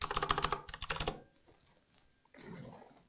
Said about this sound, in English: we'll type in Dave's Garage